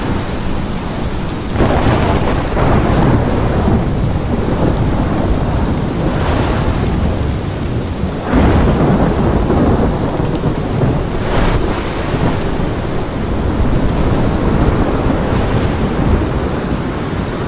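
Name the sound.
thunderstorm with rain in video game Life is Strange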